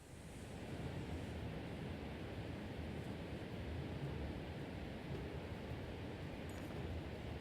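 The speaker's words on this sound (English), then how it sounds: "The roar of the approaching waterfall clouds your thoughts." Steady, dense roar of an approaching waterfall in The Banner Saga 2, a constant broadband rush that holds level throughout at a low, distant volume with no voices.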